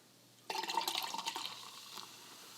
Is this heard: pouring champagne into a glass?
yes